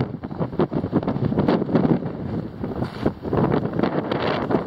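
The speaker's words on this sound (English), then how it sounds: "what a breeze, the wind" Strong, steady wind buffets the microphone on the summit of Giant's Head Mountain in Summerland, British Columbia, a loud continuous roar and rumble with gusty swells and no voices.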